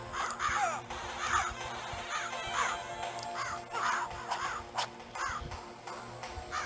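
Crows caw in a video game, Diablo 2 style in a Lord of the Rings setting on a Game Boy Advance: repeated harsh caws in an irregular rhythm over steady game background sound, fairly close and clear.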